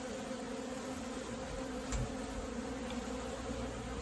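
Honey bees swarm during a removal from a church, a dense, steady buzzing drone that stays faint but constant, with one brief bump near the middle.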